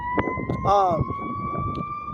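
Wailing sirens rise and fall in the distance while a person talks over them.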